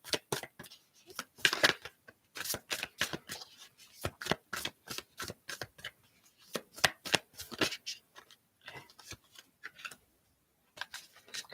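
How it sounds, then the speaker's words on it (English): A tarot deck is shuffled by hand in rapid bursts of crisp card riffles and soft slaps, close and fairly quiet, with irregular pauses between bursts and a short silence near the end. "This is just going to take a little bit more time since I'm shuffling on camera"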